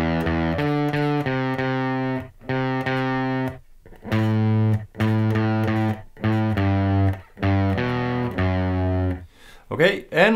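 Distorted electric guitar plays the Marilyn Manson KILL4ME riff, loud repeated chord bursts with short gaps, picked up close and played alone without talk.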